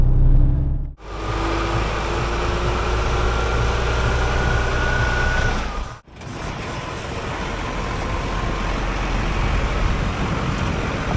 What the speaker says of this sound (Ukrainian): обороти прибавились, нажали на газ, погнали додому